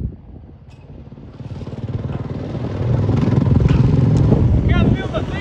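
A Yamaha YZF 450 dirt bike engine revs steadily and grows louder as the bike comes around on a lap, with people talking nearby over it.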